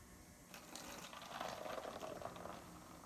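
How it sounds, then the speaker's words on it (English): Yeast poured into hydrogen peroxide sets off a foaming reaction, giving a faint, steady fizzing and bubbling hiss that holds for a few seconds with no talking. "here's the big reaction. We're going to pour in the yeast."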